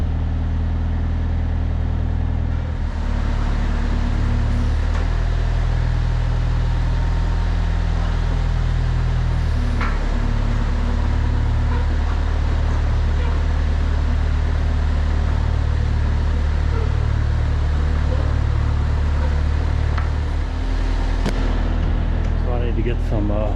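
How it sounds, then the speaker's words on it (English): A Kubota diesel engine on a machine stored in a barn over winter idles steadily close by, a loud low rumble that continues throughout, with a few brief knocks and clanks. "Fired right up though. That Kubota diesel's a good motor."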